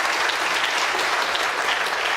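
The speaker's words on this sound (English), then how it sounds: "Big round of applause for Zavi" An audience claps steadily for a volunteer called up front at a live food talk show, a dense wash of applause sustained at even loudness with no pauses.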